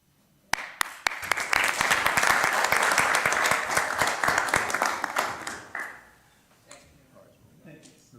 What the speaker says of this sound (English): So if you'll stand up, Mr. Merrill, we can applaud you and tell you how much we miss you.